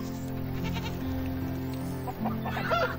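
Chickens clucking in the farm simulation game Farm Manager 2018, a steady layered barnyard bed of fowl calls with a few brighter, louder clucks near the end, heard alone without talk.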